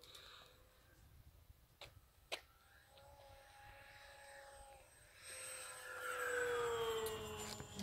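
A Durafly Efxtra RC model plane passes overhead, its electric motor whine faint at first and rising steadily louder as it nears, with a few sharp ticks and clicks nearby outdoors.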